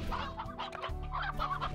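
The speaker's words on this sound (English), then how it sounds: "Oh my goodness, where's all these chickens?" Chickens in the video game Slime Rancher cluck in a busy, overlapping flurry of short, nasal clucks, close and fairly loud, without any talk.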